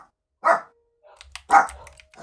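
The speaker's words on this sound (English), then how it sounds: "Because the big one's barking." Two loud dog barks, a big dog's deep woofs about a second apart, close by and alone with no talk, with faint low rumbling between them.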